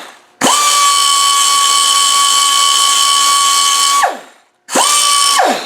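A die grinder strips paint from metal near a clutch bush, whining loud and steady at a high pitch for about four seconds. It winds down, pauses, then starts again for a second short burst. No voices.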